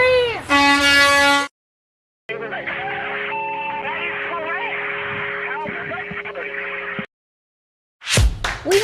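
A car horn honks loudly in a radio advertisement, a sustained blast at the start followed by an ad bed with music, then a short burst near the end.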